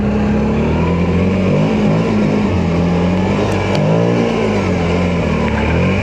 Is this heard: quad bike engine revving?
yes